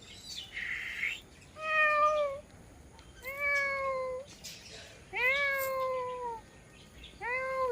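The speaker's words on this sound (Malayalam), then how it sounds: "പൂച്ചയുടെ സൗണ്ട് ഉണ്ടാകും" A cat meows repeatedly, four or five drawn-out, wavering cries with short pauses between, fairly close and clear.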